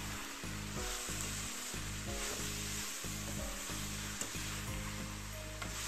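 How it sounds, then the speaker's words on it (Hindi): Radish leaves and chopped radish fry over a high flame, giving a loud, steady sizzle with repeated scraping and knocking as the pan is stirred, no voices. "अच्छे से इसको भुनने देंगे तेज फ्लेम पे, इसको हिलाते रहेंगे।"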